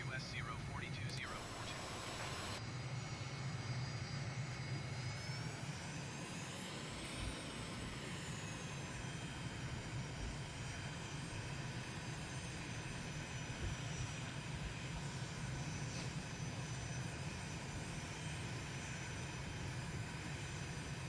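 An Aermacchi MB-339 jet taxiing in a flight simulator, a steady whining turbine drone with a slow rise and fall in pitch, continuous and close.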